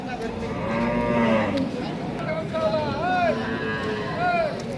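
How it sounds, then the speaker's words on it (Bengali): Dairy cows and young calves, including a Sahiwal cross calf, moo repeatedly at a busy cattle market, several drawn-out calls overlapping near and farther off over a steady crowd murmur. "দেখছিলাম দুধের বাছুর এবং গরুগুলো"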